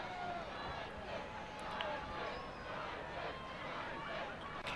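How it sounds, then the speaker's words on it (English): Home crowd in the stands at a Parkland High School football district playoff game against Emmaus, chanting "Parkland" as a steady, far-off wall of massed voices with faint rhythmic swells, under a commentator's voice. "the home crowd is now chanting Parkland"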